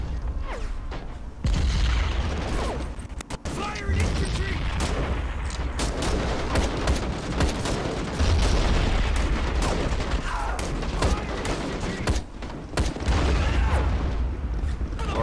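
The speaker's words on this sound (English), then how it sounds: "We're still taking some serious artillery fire here on our position to the right." Continuous artillery fire in the multiplayer battle game Call to Arms: dense, overlapping booms and crackling gunfire run through the whole clip at a steady high level, with no talk.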